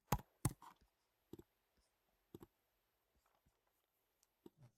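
A mouse button clicks several times in a quiet room while settings are saved in admin software, with sharp isolated clicks spread unevenly across the moment and near silence between them.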